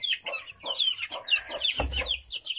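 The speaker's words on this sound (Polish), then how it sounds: "Tutaj jest kolejny kurczak z gołą szyją." Chickens clucking close by in a farm coop with naked-neck birds among the flock, a run of short, repeated clucks and squawks from several hens with a low thump partway through.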